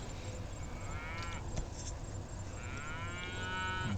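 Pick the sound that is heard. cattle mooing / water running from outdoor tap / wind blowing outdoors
cattle mooing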